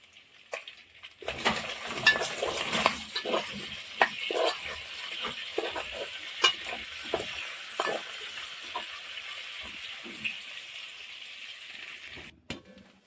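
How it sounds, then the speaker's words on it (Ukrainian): Meat and lard sizzle steadily in a pan, a broad hiss under occasional clinks and scrapes of a utensil against the pan. "Смажиться м'ясо, сало"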